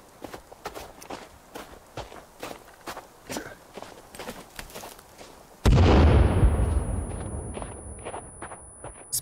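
A grenade blast in a forest survival video game goes off loud and close after several seconds of quiet footsteps, its low boom trailing into a long, decaying rumble with a thin ringing tone.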